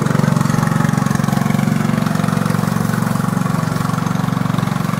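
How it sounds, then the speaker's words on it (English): A riding lawnmower engine runs steadily and loudly nearby on a small-town street, its low droning putter holding an even rhythm throughout with no voices. "Where else can you see someone riding around on a riding lawnmower"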